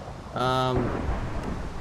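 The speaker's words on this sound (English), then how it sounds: "Let's get out of this accursed rain. I hate thunder now." Rain falls steadily in the Minecraft video game with a low rumble of thunder, while a brief tonal, voice-like sound rises near the start and then fades back into the constant wash.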